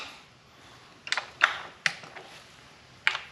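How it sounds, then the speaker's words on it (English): Torque wrench clicking as valve cover bolts are tightened in a crisscross pattern on a 1985 Mercedes 190E, four sharp separate clicks spaced about a half second to over a second apart, close and clear over a quiet background. "now we just gotta go around and torque these, kind of go across"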